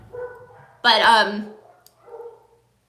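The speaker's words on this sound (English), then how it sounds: "sorry about my dog." A dog barks once loudly and sharply close by, a strong bark with a trailing whine, while a person talks in a live stream just before and after it.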